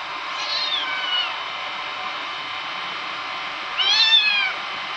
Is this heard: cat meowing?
yes